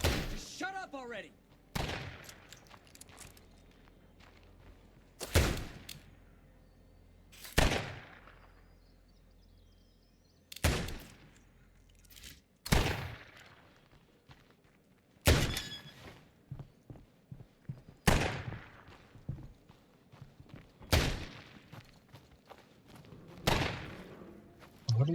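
Bursts of gunfire in the zombie survival game State of Decay 2, sharp loud shots fired singly and in short volleys every few seconds, with thuds and footsteps between them and a player talking underneath.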